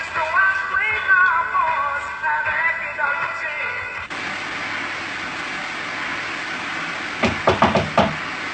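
Several sharp knocks on a door, a quick cluster of raps near the end, following a stretch of music and then a quieter room background.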